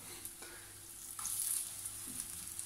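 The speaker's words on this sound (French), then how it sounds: "J'ai mis l'huile à chauffer et là je mets mes nuggets." Breaded stick-shaped chicken nuggets frying in a pan of hot oil give off a steady, soft crackling sizzle that swells slightly midway, with no talking.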